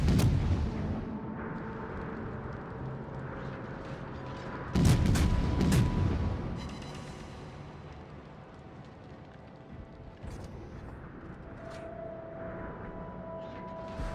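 Naval gun salvos in World of Warships ring out as heavy booms, with a loud burst around the middle trailing into rumbling echoes over a steady low game ambience.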